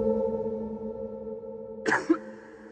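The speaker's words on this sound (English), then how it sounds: "A person coughs once" A single short cough from one person bursts out near the end, close and sharp, after a quiet stretch of steady low humming tones.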